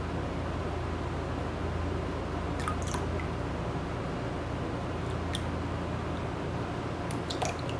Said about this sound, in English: And rinse it off.